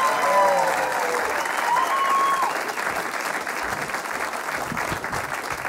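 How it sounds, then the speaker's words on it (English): An audience at a stand-up comedy show applauds steadily and loudly throughout, a dense wash of clapping with a few faint whistles near the start, tapering slightly toward the end. "Keep that applause going, folks."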